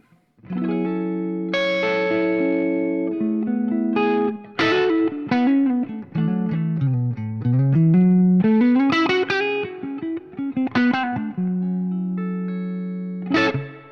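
Electric guitar played through a Tone King Imperial Preamp into a Marshall MGL 50 amp with EL34 power tubes, with added reverb: sustained, loud chords and bending melodic lines ringing out continuously, with no talking.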